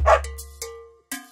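A dog barks in a children's song about a farmer's dog: two or three short, loud, close barks in quick succession, with no singing or talk over them.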